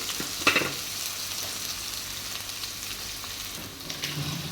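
Ginger garlic paste sautéing in a clay pot, a continuous close hiss of frying oil with a brief louder scrape near the start and a few soft stirring knocks toward the end, no talking.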